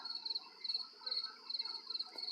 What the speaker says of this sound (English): I'm out here with the crickets